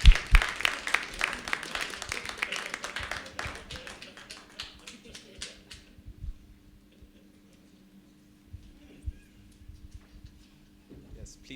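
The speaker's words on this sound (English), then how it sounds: "let's give her a round of applause as she comes up." An audience claps in a round of applause for a model coming up to debate, dense at first, then thinning into scattered claps and fading out, with some voices in the background.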